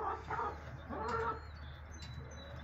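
Chickens clucking softly on a farm in the morning, a few short bursts of low clucks and coos that come and go close by over steady quiet background noise, with no talking.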